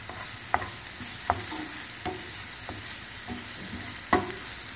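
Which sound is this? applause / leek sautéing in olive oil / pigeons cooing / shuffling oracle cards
leek sautéing in olive oil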